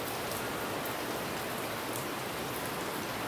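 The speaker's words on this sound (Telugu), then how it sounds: "వర్షం అయితే పడుతుంది" Steady, dense rain hissing down on surfaces nearby, a continuous wash of drops with no voices.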